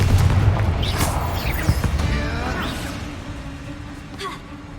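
Confringo spell blasts in the video game Hogwarts Legacy, a burst of booming impacts and crackling fiery whooshes that fades out over several seconds, loud and close.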